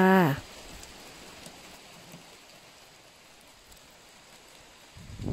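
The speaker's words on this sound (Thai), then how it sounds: "ตอนแรกฝนตก ต่อมาลูกเห็บตกแห้งขึ้นแห้งขึ้นค่ะ" Steady rain mixed with hail falls outdoors as a soft, even hiss of many drops on surfaces, continuous and moderately loud, with a brief voice-like tone at the very start.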